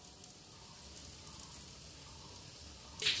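An egg dish frying in a pan gives off a faint, steady sizzle with a soft crackle, and a brief sharper burst comes right at the end.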